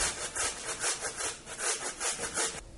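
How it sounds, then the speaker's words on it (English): Potatoes are grated on a hand grater in steady, rhythmic back-and-forth rasping strokes, about eight close, fairly loud scrapes before stopping. "Next, we're going to grate potatoes using this grater."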